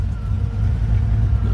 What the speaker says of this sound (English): This is a BTR Stage 3 truck cam. It sounds pretty healthy.